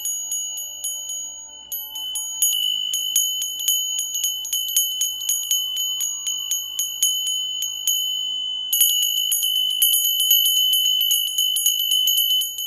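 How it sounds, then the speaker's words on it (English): Brass bells ringing steadily, with bright sustained tones and repeated strikes throughout, close and clear, with no talking. "use sound bells, brass bells especially are wonderful"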